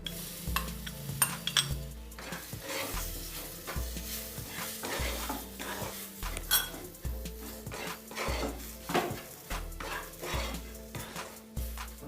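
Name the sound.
banana pieces frying with grated coconut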